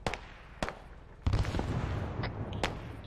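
Sharp explosive blasts from a video game battle: a few separate booms, then a larger rumbling blast with debris crackle trailing off.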